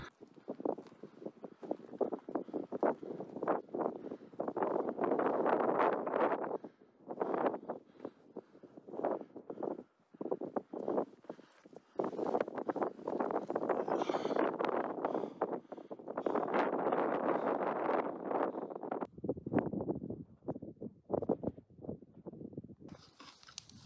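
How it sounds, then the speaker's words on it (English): Strong gusty wind buffets the microphone on the summit of Sierra Blanca Peak in New Mexico, roaring in uneven surges with brief lulls between blasts. "It's windy, but miraculously on the summit, I mean, you can hear it."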